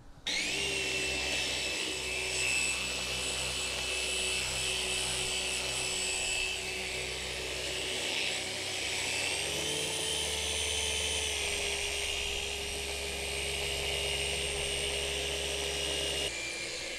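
A car polishing machine spins continuously with a steady, loud high-pitched whine and drone, its pitch shifting slightly partway through before it stops.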